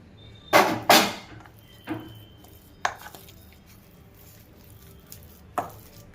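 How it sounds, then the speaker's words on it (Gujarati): Knife chopping fresh coriander on a board for vada pav potato masala: a quick double burst of chops, then several sparser single cuts spaced a second or so apart, close and fairly crisp. "હવે આની અંદર આપણે ત્રીસ ગ્રામ ધાણા કટિંગ કરી નાખી"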